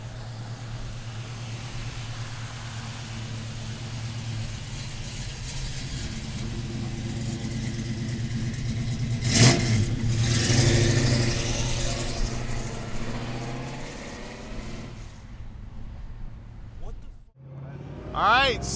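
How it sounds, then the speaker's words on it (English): A 1967 Chevrolet Chevelle convertible with a big-block engine and 4-speed manual, rumbling steadily while driving, swelling louder mid-clip as it accelerates and then easing off; someone talks over the engine. "67 convertible, going for a drive. Big block under the hood, 4-speed shifter between the bucket seats."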